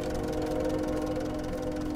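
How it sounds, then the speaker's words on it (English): A tractor engine idles in a farming video game, giving a steady, close mechanical hum with a low rumble that holds unchanged for the whole stretch without any talk. "oh, because I've got the tractor stuck in it"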